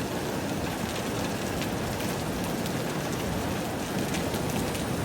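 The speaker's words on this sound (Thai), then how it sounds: "น้ำฝนแนวนี้นะ" Heavy rain from a tropical storm falls in a steady, even hiss of drops pattering on surfaces, moderately quiet and unchanging, with no voices.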